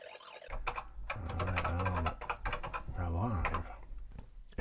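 Someone is typing on a computer keyboard, with a rapid run of clicking keystrokes that carries on under someone talking over it.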